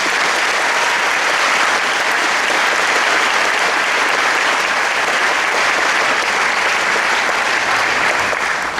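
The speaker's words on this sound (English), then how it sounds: "Let's give these students a round of applause." Audience at the 2017 Rittman High School graduation ceremony applauds the graduating class, with steady, sustained clapping from a large crowd filling the hall throughout, loud and continuous with no pauses.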